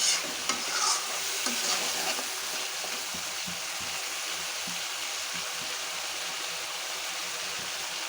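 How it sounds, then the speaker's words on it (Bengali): Fish head and spices sautéing in oil for a fish-head murighonto dal, with steady close sizzling and frequent stirring scrapes throughout, no voices. "মাছটা যেন ভালো করে কষানো হয় সেদিকে অবশ্যই লক্ষ্য রাখবেন।"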